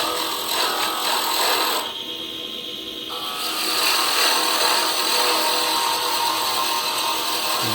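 A gouge cuts wood on a lathe with a harsh, continuous rasping scrape that briefly eases to a softer hiss before resuming close and loud.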